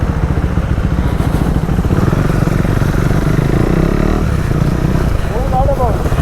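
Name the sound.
RX-100 motorcycle revving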